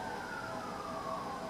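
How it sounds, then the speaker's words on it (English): Faint emergency sirens wail in the distance, a steady rising-and-falling tone under a low background hum. "there's sirens in the background"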